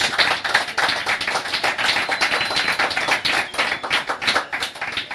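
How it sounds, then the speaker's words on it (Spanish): A church congregation claps loudly for Jesus in a dense, steady burst of many hands that keeps going without a break from start to finish. "Quiero un aplauso, pero bien fuerte a Jesús."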